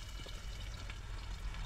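Onions frying in a pan, prepared by drivers on a mountain road in Ladakh: a steady, close hiss of sizzling oil that runs unbroken with no talk over it.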